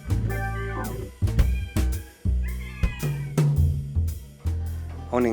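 Several cats meow in a Tokyo cat cafe: a quick run of loud, close, pitched meows, one after another, with short gaps between them and a rising, wavering call at the end.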